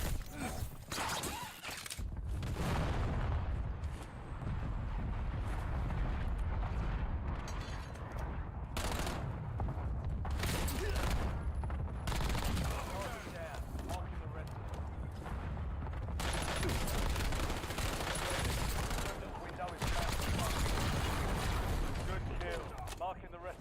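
Rapid gunfire and explosions crash almost without pause through a Rebirth Island battle royale match, loud and dense, with brief quieter gaps and a voice speaking over the action.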